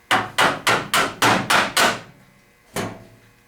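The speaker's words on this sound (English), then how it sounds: "you put this in between the two pieces of metal that you're trying to separate, and just tap it through" Hammer tapping a spot weld remover wedged between two metal panels: six sharp, evenly spaced metallic strikes in quick succession, a pause, then one final tap, loud and close with no talk.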